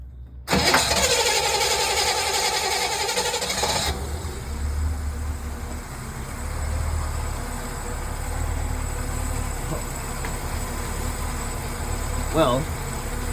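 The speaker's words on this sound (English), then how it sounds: "You want to start the engine?" A boat engine cranks loudly for a few seconds, then catches and settles into a low, steady idle that continues to the end, with a brief knock near the close.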